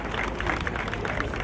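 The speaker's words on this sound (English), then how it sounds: "Please, let's give them another round of applause." A crowd applauds a parade at a Lagos youth service camp with a brief, dense wash of clapping and crowd noise, steady and fairly distant.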